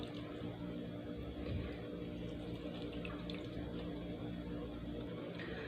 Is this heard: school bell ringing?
no